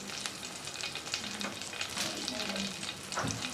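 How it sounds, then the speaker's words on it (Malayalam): Mustard seeds spluttering in hot ghee in a pan, a steady dense sizzle with scattered crackling pops, moderately close and without any voices. "ഇതിലേക്ക് കടുക് ഇട്ട് പൊട്ടിക്കാം."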